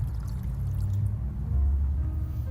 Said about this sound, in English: we're going to add 2/3 cup of water